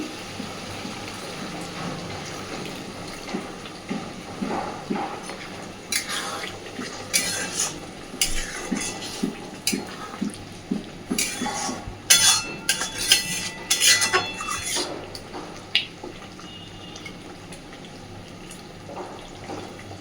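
Kitchen sounds while cooking dhaba-style chicken curry in a pan: scattered clinks of a utensil against the pan and a soft pour of a little water, moderately near, with no talk.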